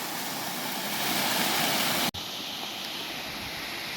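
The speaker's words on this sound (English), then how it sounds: "So here's the detention falls. Very nice looking waterfall." Detention Falls in Tasmania's north west pours in a steady, broadband rushing roar, heard fairly close and alone, with a sudden brief dropout midway before the same constant flow resumes.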